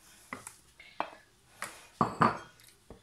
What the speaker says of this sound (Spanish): con el tomate y el pan vamos a seguir majando